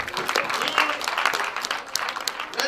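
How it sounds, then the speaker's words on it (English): Boys at a Universal Children's Day celebration at 7 Trees, Kololo clap their hands in a quick, scattered patter that stays fairly faint and steady throughout, with crowd voices underneath. "give yourself a big hand clap."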